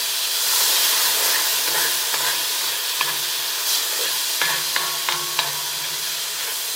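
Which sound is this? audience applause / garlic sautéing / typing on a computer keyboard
garlic sautéing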